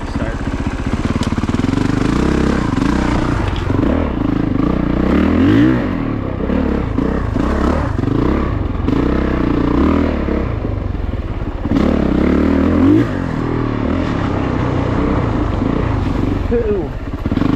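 A Honda CRF450RX dirt bike rides enduro single track through trees, its engine revving and bogging in uneven surges with clattering over rough ground, while the rider talks over it.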